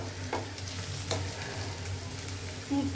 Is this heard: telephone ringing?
no